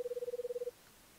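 A phone rings in a hide-and-seek horror game with a rapid pulsing electronic trill of about a dozen even beats that stops abruptly, heard alone against quiet background.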